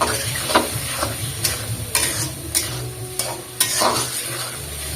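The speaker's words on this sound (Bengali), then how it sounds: "এই যে টমেটো, ভালো করে কষাই নিই।" Tomatoes sautéing in a pan in a Bangla home kitchen, a steady sizzle broken by repeated scraping strokes of a spatula, close and moderately loud, with no talking.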